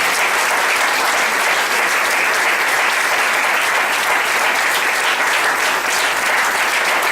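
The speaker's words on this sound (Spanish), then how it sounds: "Denle un aplauso fuerte al Señor." A church congregation breaks into loud, sustained applause that fills the room evenly for several seconds, with no voices rising above it.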